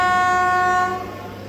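A locomotive near Guntur station sounds a loud, sustained horn blast that holds a steady pitch and then fades and drops away near the end.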